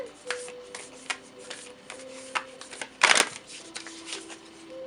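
Cards are handled and drawn from a deck during a tarot-style reading, giving soft papery rubs and light taps across the whole stretch with a brief, louder riffle near the middle, close and fairly quiet.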